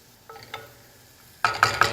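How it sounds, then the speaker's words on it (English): Sliced onions hitting a hot frying pan, starting with faint clinks and then breaking into a loud, bright sizzle that swells three times over the last half second, with no talking. "you should hear a sizzle as it goes into the pan"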